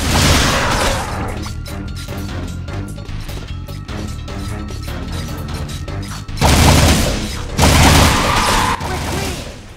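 Pistol gunfire from armed enemies in the action game Jak II: rapid, repeated sharp shots and crashing impacts in a steady barrage, loud and near, with heavier blasts toward the end amid game noise.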